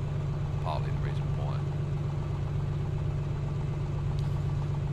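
Piper PA-24 Comanche aircraft engine runs at a steady idle, a strong low droning hum with even harmonic throb, continuous and close, as a voice speaks faintly over it.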